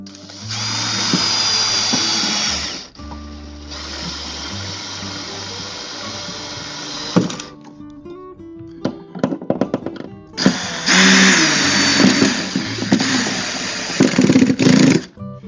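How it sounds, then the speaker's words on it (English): A cordless drill on a gentle torque setting drives a screw to mount a floating shelf, whining loudly in several sustained runs broken by short pauses, clicks and ratcheting stops. "Gonna screw it down. Now I have this on a very gentle setting for the torque."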